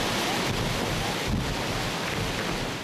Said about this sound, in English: Wind gusts down the terrace were so strong, it was difficult to walk.